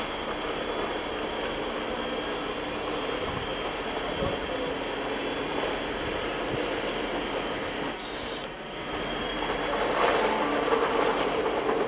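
Trains at Graz main station, including freight, long-distance and shunting runs, rolling through in a steady loud rumble with rhythmic clattering of wheels over rail joints, continuous throughout.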